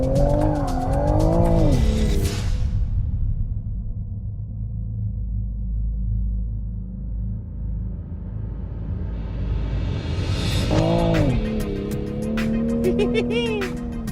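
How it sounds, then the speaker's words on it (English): A 2020 Toyota Supra in a controlled power slide on a track, its engine roaring loudly and steadily while the rear tires squeal at the start and again near the end. "you can just light up the rear tires and do a very smooth and controlled power slide"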